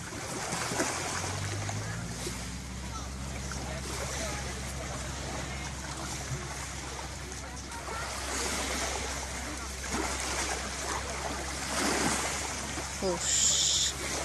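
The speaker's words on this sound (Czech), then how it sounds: "Krásný moře." Sea waves wash steadily along the Croatian coast at sunset, a broad continuous surf with wind noise, while people talk nearby throughout.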